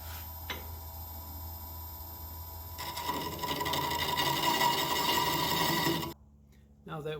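A wooden rod for an Elder Wand turning on a lathe at slow speed, a steady mechanical whir with a scraping, rasping tool cut that grows louder partway through, then stops abruptly.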